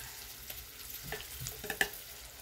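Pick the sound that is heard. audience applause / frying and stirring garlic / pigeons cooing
frying and stirring garlic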